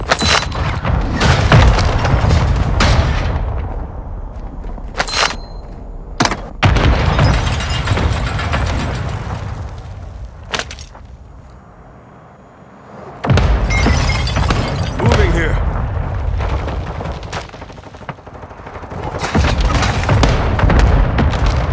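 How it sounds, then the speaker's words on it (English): Mortar strike explosions in Call of Duty Warzone 2.0, a series of loud heavy booms with shattering debris, several sharp close blasts separated by brief lulls, alone without talk. "Hostile mortar strike near your position."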